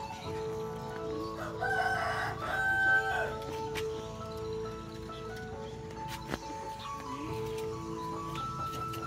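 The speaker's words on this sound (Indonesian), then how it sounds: "Kandang ayam." A rooster crows amid chickens clucking in a chicken coop, a prominent crow early on followed by scattered calls and clucks, with faint background noise and a brief knock.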